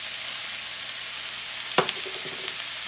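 Jalapeno and regular peppers fry in a pan with a dense, even sizzle close by, and a brief clatter of stirring partway through.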